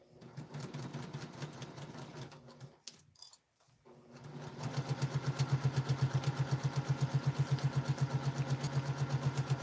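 A sewing machine stitching fabric pieces together, running in short bursts, pausing briefly, then settling into a fast, steady, close mechanical rhythm of needle strokes.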